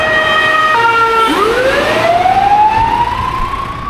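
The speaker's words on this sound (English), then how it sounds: "Bro, there's more sirens. Fire engine now." A fire engine siren wails loudly up close on a street in Galicia, Spain, its tone sweeping upward in a rising whoop over steady traffic rumble. No one speaks.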